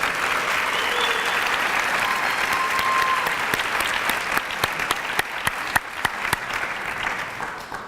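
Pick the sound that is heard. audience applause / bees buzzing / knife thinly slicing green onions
audience applause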